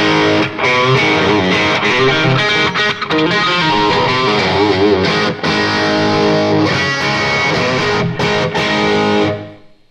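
Electric guitar played through a Yamaha THR10 amp on its British high gain setting with room reverb, a loud, continuous distorted riff of chords and single notes that fills the whole passage without any voice, then cuts off at the end.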